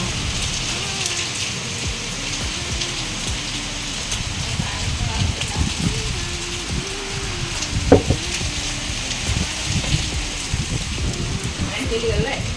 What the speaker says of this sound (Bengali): এত ঝমঝমিয়ে বৃষ্টি হচ্ছে যে কি বলবো